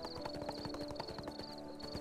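A horse's hooves clip-clop at a steady trot in the online game ArcheAge, a continuous rhythmic patter of fairly quiet footfalls on a road.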